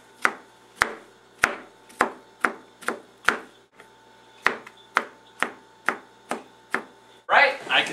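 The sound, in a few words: finely dicing ingredients with a knife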